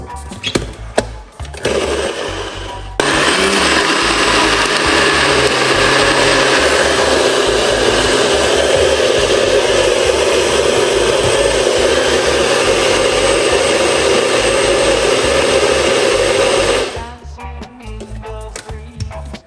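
A blender starts with a few short bursts, then roars steadily at high speed for about fourteen seconds before cutting off, loud and close.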